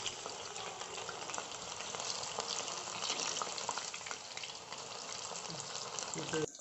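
Beef pieces for beef chilli frying in hot oil, a steady broadband sizzle with light crackles and occasional stirring clatter, continuous and fairly close throughout.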